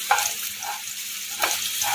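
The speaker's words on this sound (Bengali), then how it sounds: "রসুনটা একটু হালকা একটু ভাজা হোক" Garlic sizzles in a pan over a low gas flame, a continuous close crackling fry with occasional louder pops and a stir scraping through it.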